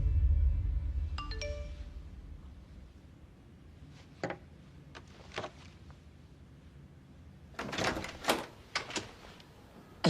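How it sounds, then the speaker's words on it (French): A doorbell chimes once near the start in a quiet room, followed by a few sharp door knocks or clunks and a brief cluster of louder knocks later on, over a low background rumble. "Alors j'ai une sonnette."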